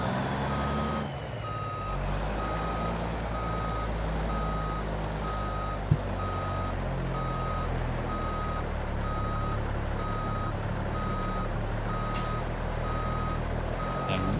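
A truck reverses at a construction site in the BeamNG.drive video game, its backup alarm beeping in a steady regular rhythm over a continuous low diesel engine rumble, with one brief clunk midway.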